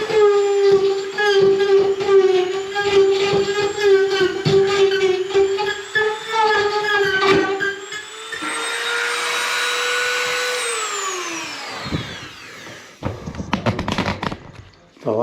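A power drill bores into the wood of a barrel sauna, its motor whining in repeated bursts, then a longer strained run that winds down, followed by scraping and rattling nearby.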